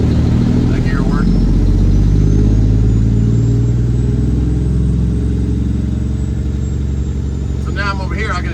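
Semi truck engine droning loud and close inside the cab as the driver works through the gears, with rising and falling engine pitch and a voice talking under it.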